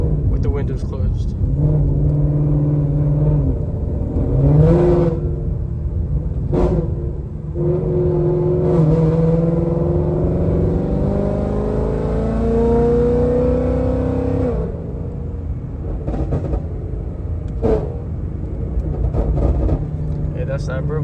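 A Ford Mustang GT engine heard from inside the cabin with the windows closed, a steady deep rumble that rises and falls through revs and downshifts, with someone talking over it.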